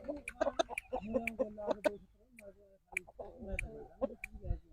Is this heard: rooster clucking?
yes